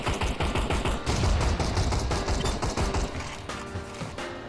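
Rapid pistol gunfire in a VR zombie shooter, dual pistols firing dense volleys of sharp shots with clattering mechanical sounds, loud and close, easing off toward the end.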